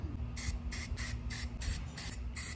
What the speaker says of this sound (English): definitely just gonna spray that bottom layer